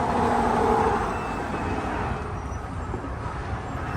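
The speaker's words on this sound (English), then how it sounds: "Got a US highway to my right." Steady traffic on a US highway near the Mexican border crossing forms a continuous broadband roar of passing vehicles, moderately loud with no talk.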